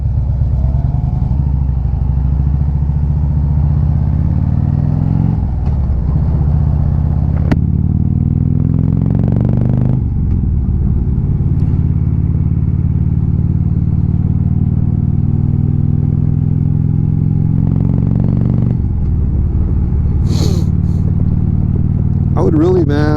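A Harley-Davidson motorcycle rides through East Bay canyon roads, its engine a loud, steady low rumble with gear-shift changes in pitch and wind buffeting throughout, while a rider talks over it.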